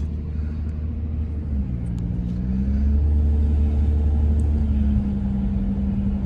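Cars on a road on a college campus: a steady low engine rumble and drone holds throughout, with a slight shift in pitch midway, fairly loud, and no voices.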